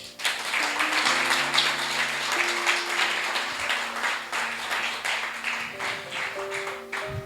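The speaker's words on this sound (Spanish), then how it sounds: "Dale un aplauso a Él" Audience in a church applauding during a sermon, a steady sustained wash of clapping with sustained organ or keyboard tones underneath, continuous and fairly loud throughout.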